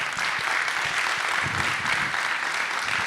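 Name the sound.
audience applause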